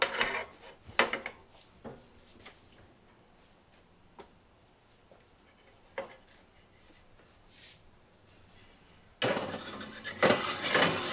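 A baking tray of halfmoon cookies goes into the oven with scattered light metallic clinks and knocks, followed by a steady rushing whoosh near the end.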